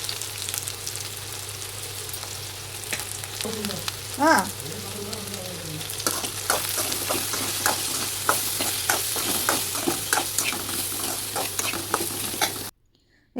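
Steady close sizzling of sliced ivy gourd frying in hot oil over low heat, with occasional stirring scrapes and a brief voice partway through; the sizzle cuts off abruptly near the end.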